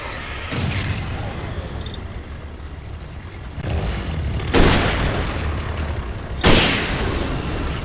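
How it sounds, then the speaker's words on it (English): A hunting rifle fires heavy, booming shots in Alan Wake over a constant low rumble, with the two strongest blasts about two seconds apart near the end and a softer boom earlier. "just 2 shots with the hunting rifle"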